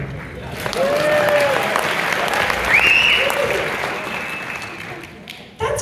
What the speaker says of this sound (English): Clap if you're married.